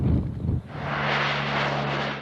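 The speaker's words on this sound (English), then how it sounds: "A rescue being helped too from the skies. Planes heading for this site" Search planes flying overhead over the high seas during the search for the missing Titan submersible, a steady, droning engine hum with a low tone, following a brief gust of wind noise.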